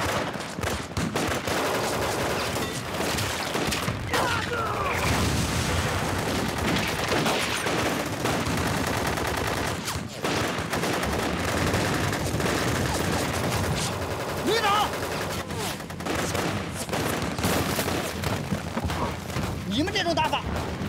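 Gunfire fills a war drama shootout against Japanese troops, dense bursts of rifle and machine-gun shots with booms and thuds running nonstop and loud, while voices shout over the battle.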